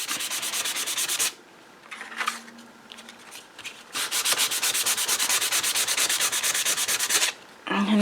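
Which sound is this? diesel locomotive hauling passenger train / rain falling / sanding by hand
sanding by hand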